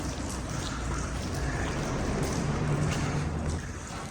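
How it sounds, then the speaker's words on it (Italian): Water dripping from above in an underpass, with no rain outside: a dense, steady patter of drops landing on hard surfaces, fairly close and continuous throughout, with no voices. "Mi sta piovendo sulla testa, anche se non piove fuori."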